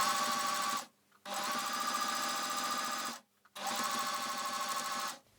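Sewing machine stitching fabric while sewing an underbust lolita jumper skirt: three steady, fairly loud runs of rapid mechanical stitching separated by short pauses.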